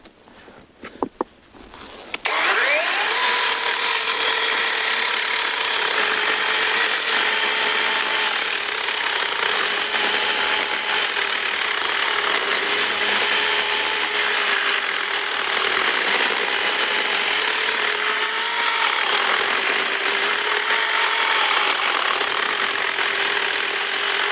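An ABS L-212 cordless chainsaw starts after a few handling clicks and runs for over twenty seconds with a loud, steady electric whine and small shifts in pitch as it works.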